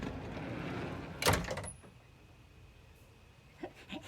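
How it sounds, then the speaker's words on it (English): A door is pushed open with a broom in a workshop holding Kohler Courage engine parts, a short loud scrape and clatter followed by a quiet hum and a couple of faint knocks. "I was just gonna open the door with this broom"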